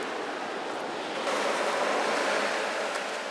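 Ocean surf rolls steadily at a surfing beach in Yangyang, Gangwon Province, a continuous broad wash of breaking waves that swells slightly midway, with no voices.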